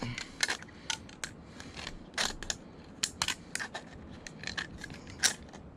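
Scissors cutting an aluminum can to make a cat can stove, a run of quick, irregular close snips and metallic crinkles with no speech over them.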